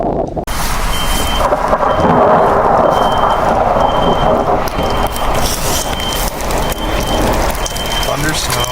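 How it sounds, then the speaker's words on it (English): Thunder rolls during a West Virginia snowstorm as snow, sleet and freezing rain fall, a loud, sustained rumble over a constant hiss of precipitation that fills the whole stretch. "Thunder snow."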